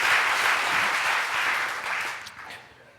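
Dense applause from a church congregation at a Sunday service, steady and full for over two seconds before tapering off toward the end.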